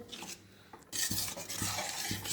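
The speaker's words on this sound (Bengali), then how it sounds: "তো এবার সব কিছুকে একটু মিশিয়ে নেবো সুন্দর করে।" A spoon stirs a pav bhaji mixture in a pan, quiet at first, then rhythmic scraping strokes against the metal with a soft wet sizzle underneath.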